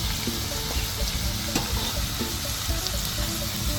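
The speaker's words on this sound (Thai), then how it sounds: "นี้เราก็รวนไปเรื่อยๆนะครับรวนไปเรื่อย ๆ" Chicken bones are stir-fried with red curry paste in a hot pan, giving a steady close sizzle and crackle with occasional scrapes and clinks of a utensil stirring throughout, and no talk.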